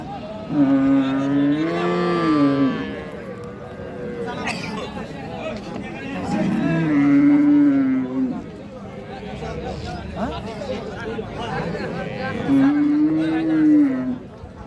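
Cattle at a village market, a cow with her heifer calf: three drawn-out moos a few seconds apart over steady talk between men and background crowd chatter.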